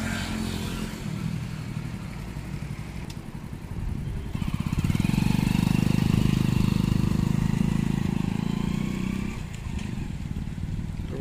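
A motorcycle towing a loaded bike trailer runs with a steady low engine drone that swells louder and rougher midway as it passes close, then settles back, with a voice faintly present.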